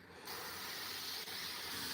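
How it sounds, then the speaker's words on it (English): Airbrush spraying paint onto a Warhammer miniature, a steady close hiss that starts abruptly after a brief pause and holds evenly with one tiny dip. "Okay, so I have to be a bit further away when I spray."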